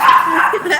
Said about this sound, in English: Delinquent dog.